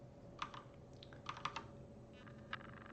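Typing on a Logitech G610 mechanical keyboard during a coding session, irregular faint key clicks in small clusters over a low background hum, with no talking.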